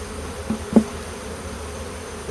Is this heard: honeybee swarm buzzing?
yes